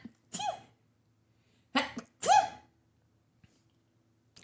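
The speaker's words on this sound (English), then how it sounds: "The timing of this is awful, but I'm about to sneeze." A single person sneezes close by, with a short breath before and a loud two-part burst after it, then a faint click in an otherwise quiet room.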